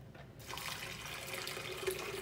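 Filtered water poured into a container over raisins, a steady splashing, trickling flow that begins abruptly after a brief quiet moment and continues at moderate, close-up volume without talking.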